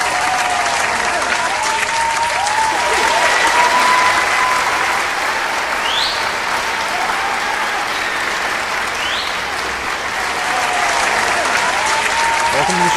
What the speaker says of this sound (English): Everyone, please give a round of applause for Shad Ghost.